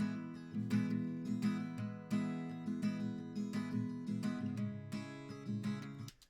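Recorded acoustic chorus guitar played back in a mix, steady strummed chords with regular percussive strokes, full and even in level, no talking.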